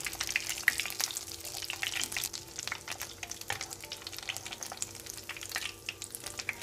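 Meat patties frying in a pan of oil, with a steady dense sizzle and crackle that holds at a constant level throughout.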